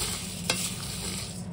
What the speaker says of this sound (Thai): เอาข้าวเหนียวมาคั่วแล้วก็ ใส่ใบมะกรูดเพิ่มความหอมลงไปจ้า